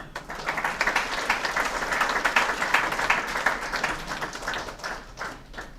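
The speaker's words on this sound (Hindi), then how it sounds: "जोरदार तालियां" Audience at a network marketing training session breaking into lively applause, many hands clapping densely and close by for several seconds before gradually thinning out.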